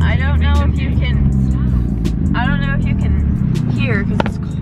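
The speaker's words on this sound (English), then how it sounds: "because this car is so loud" A loud car on the way to a cars and coffee meet gives off a steady low engine drone inside the cabin, under a voice that keeps talking.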